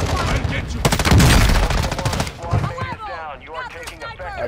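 Rapid bursts of automatic gunfire rattle in Call of Duty DMZ, loud and dense at first, then thinning into scattered shots as a radio-style voice speaks over the fire.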